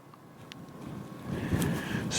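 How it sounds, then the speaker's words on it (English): Strong wind buffeting a microphone outdoors, rumbling low and steady and swelling louder in the second half, with a faint whistle near the end. "Strong wind."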